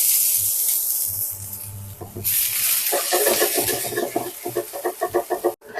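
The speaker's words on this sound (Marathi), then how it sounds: "आलं आणि लसणीचा छान अरोमा येईपर्यंत परतून घ्यायचं आहे" Chopped chili, ginger and garlic sautéed in hot oil over high heat for a vegetable soup, a steady close sizzle with a spoon stirring and scraping in quick bursts, no voices.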